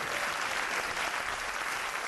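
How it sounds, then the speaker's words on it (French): Dense, steady audience applause fills the room at a live concert, loud and continuous throughout with no voices breaking through. "Et on l'applaudit bien fort."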